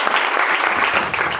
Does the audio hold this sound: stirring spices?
no